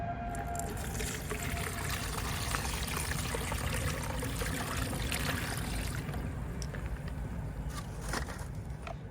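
Liquid plant fertilizer made from peels is strained and poured in a steady, close trickle that runs without pause for several seconds.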